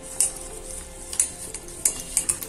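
Semolina batter being mixed with water, a spoon scraping and clinking against the bowl in several quick, close strokes.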